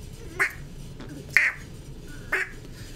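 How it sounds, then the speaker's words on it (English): Three duck quack sound effects played one after another at roughly even intervals, short nasal bursts over a low background hum. "Ashley's redeemed 3 quacks."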